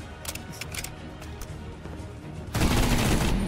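Rapid gunfire from a modded gun in Minecraft, with bursts of dense crackling shots building into a louder, sustained volley toward the end, close and with no talk over it.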